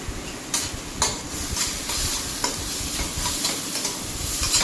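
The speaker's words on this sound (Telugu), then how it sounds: "కూడా వేసి చక్కగా వేయించుకోవాలండి. ఇది కాస్త ఆయిల్ వదిలే వరకు వేయించాలి." Chili powder and coriander powder fry in oil for a chickpea curry masala, sizzling steadily close by as a spoon scrapes the pan in a regular rhythm of strokes.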